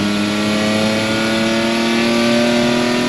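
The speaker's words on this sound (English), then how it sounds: "Let's take it for a test drive, see how she goes." A 1992 Nissan Pathfinder's engine revs steadily on a test drive, a loud, close, continuous drone with a faint rise toward the end and no one talking.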